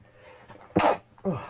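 A single loud, close sneeze from a man suffering hay fever, preceded by a faint intake of breath and followed by a shorter second burst like a cough or throat sound.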